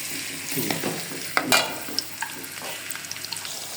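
Sliced onions hitting hot oil in a cooking pan for chicken biryani, a steady close sizzle with crackling pops and the scrape of stirring, no voices.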